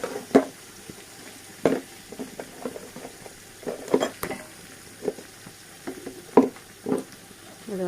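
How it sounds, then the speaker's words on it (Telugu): Onions frying in a pan, a steady close sizzle broken by regular scraping stirs of a spoon roughly every half second to second. "ఉల్లిపాయలు బాగా వేగిపోయాయి"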